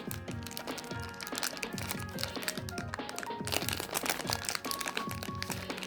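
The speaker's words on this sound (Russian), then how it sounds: "Здесь уже пакетик немного открыт, так что давайте его разорвем." Steady crinkling and crackling of plastic packaging being torn and pulled open up close, continuous rustle throughout.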